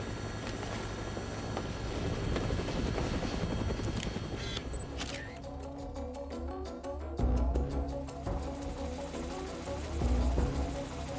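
A helicopter in Dead Rising Deluxe Remaster flies over a town, its steady rotor thrum and engine whine running continuously at moderate distance, with rhythmic blade chop pulsing through the latter half.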